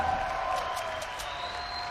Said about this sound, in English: We got a round of applause here